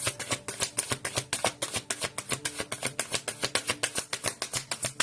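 Tarot cards being shuffled by hand in quick, even riffling bursts, a steady close-up rhythm of papery flicks with no talk over it.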